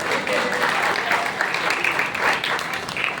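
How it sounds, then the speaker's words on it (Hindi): An audience claps continuously through a Hindi religious discourse in a town hall, a dense, steady applause that fills the short moment. "ताली बजा दो एक बार।"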